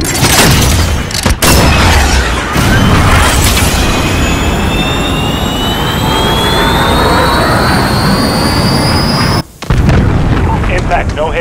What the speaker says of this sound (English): Missile, go for launch. This is Jaguar. Missile away.